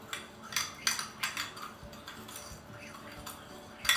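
A utensil repeatedly clinks and taps against a bowl as salt, pepper and garlic powder are stirred together, giving an uneven rhythm of light, close metallic strikes.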